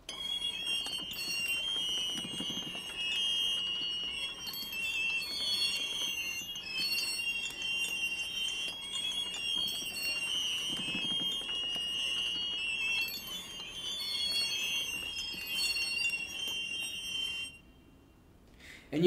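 An orchestrated instrumental layer built by assisted orchestration, heard alone as a dense, shrill sustained texture of high tones with shimmering fluctuations, steady and moderately loud, dropping away abruptly near the end.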